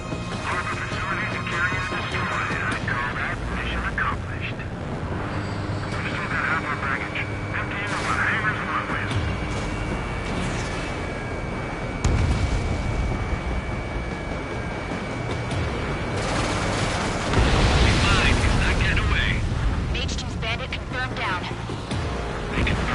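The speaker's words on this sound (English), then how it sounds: "The harbor's under heavy fire!" Ace Combat 7 harbor under heavy fire, with dense gunfire, explosions and aircraft roar throughout, loud and continuous, while radio voices talk over the battle.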